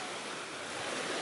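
Surf on a beach at Arenzano, Italy, makes a steady broadband wash of waves with some wind noise, constant and fairly faint.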